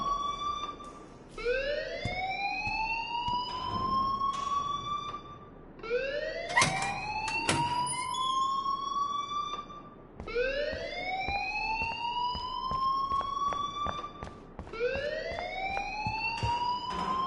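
A repeating alarm rings inside Life is Strange, each cycle a rising, wailing siren-like sweep that repeats about four times in steady succession, loud and continuous with no talk over it.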